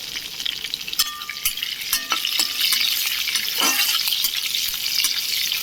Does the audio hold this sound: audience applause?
no